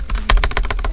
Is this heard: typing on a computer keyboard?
yes